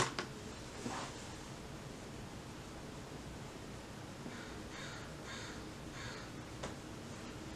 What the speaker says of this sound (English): You can probably still hear the crows.